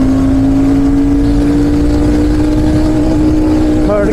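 Royal Enfield Shotgun 650 motorcycle accelerating through the gears on a city ride, a loud, close engine drone whose pitch climbs steadily, with heavy wind rumble.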